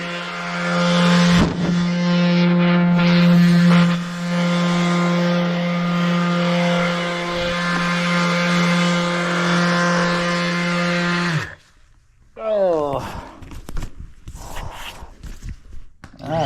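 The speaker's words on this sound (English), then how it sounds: "We're gonna record a little bit of the sanding now." A power sander drones loudly and steadily up close for about eleven seconds during a house renovation, then cuts off abruptly, followed by someone talking.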